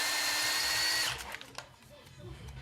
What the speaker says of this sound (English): Make sure you drill straight into the hole.